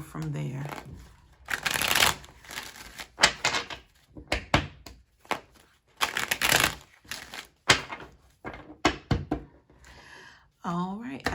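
Cards being shuffled for a card reading, several quick riffling bursts close by, separated by pauses and mixed with speech.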